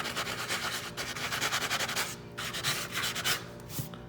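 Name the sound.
hand sanding a drywall patch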